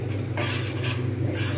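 Green pea filling being stirred in a pan, with a steady rasping, scraping rub of the spoon that repeats in short strokes under a low hum.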